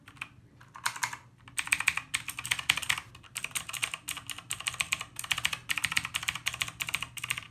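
A budget $35 mechanical keyboard with clicky switches mimicking MX Blue gets typed on in quick, steady bursts of sharp, close-up keystroke clicks, with short pauses between runs and no voices.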